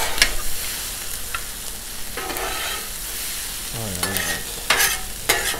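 Steaks fry on a 36-inch Blackstone griddle with a constant crackling sizzle, broken by several sharp scraping bursts as a spatula stirs and flips them.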